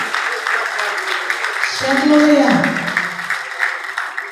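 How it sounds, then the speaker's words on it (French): Audience applause for national exam laureates at an awards ceremony, a steady wash of clapping running under a speaker's amplified voice throughout. "Applaudissons encore nos lauréats."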